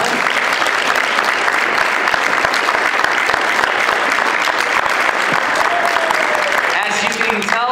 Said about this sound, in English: Tina Harma, a round of applause